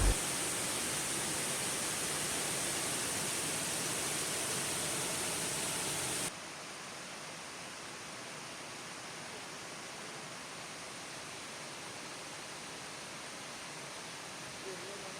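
A waterfall pouring from between rocks and trees into the fast-flowing Krung Tenom river makes a dense, steady roar that drops abruptly to a softer, continuous rush partway through.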